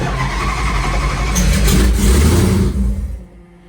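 A car engine fitted with a Holley EFI system and a fully closed throttle body cranks and catches, then runs roughly for a few seconds before abruptly dying. Loud and close, with no speech.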